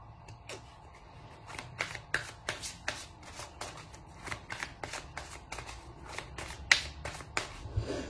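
Tarot cards shuffled by hand in a steady run of crisp riffling snaps and flutters, close and fairly quiet, with no talking.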